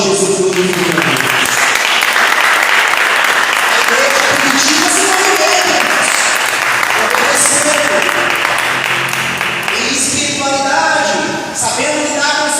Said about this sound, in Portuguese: Quem crê, aplauda Jesus por tudo.